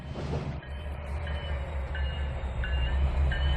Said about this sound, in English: I'm basically controlling two trains at once here.